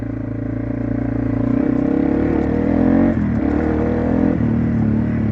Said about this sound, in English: this thing sounds good though for a stock exhaust on here